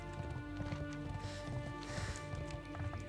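Horse hooves clip-clopping up stairs in World of Warcraft: Mists of Pandaria, a steady run of hard hoof knocks over layered game music and ambience.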